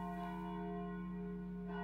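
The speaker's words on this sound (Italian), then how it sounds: "Questa è la campana di Longarone, la campana che suona ogni anno alle ore" Longarone church bell in the Vajont area ringing out, a sustained loud tolling hum with rich steady overtones, heard alone.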